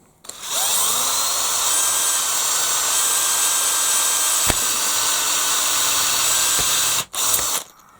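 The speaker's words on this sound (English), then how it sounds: "and then just drill straight through" A power drill bores straight through the plastic turntable moulding of a Bruder CAT toy excavator, a loud, steady high-pitched whine held close for about six seconds, briefly dipping near the end before stopping.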